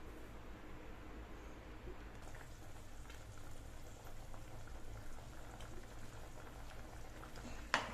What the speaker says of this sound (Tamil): மூடி வச்சு இந்த காய்கறி தண்ணி எல்லாம் கொதிச்சு வேகட்டும்